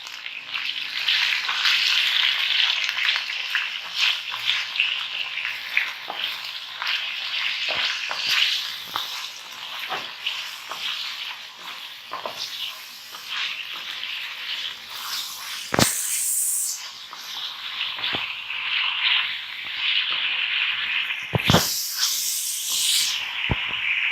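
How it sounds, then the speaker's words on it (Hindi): Mutton for Lahori karahi fries in a pan with a steady, bright sizzle and hiss that carries on alone, broken by occasional louder spitting bursts. "हमें 4-5 मिनट इसको भूनना है।"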